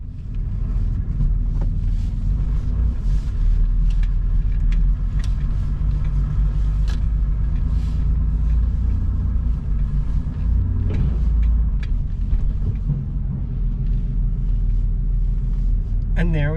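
A Porsche 3.2 Carrera engine runs with a steady, loud low rumble as the car drives off, the sound continuous throughout and joined by occasional voices.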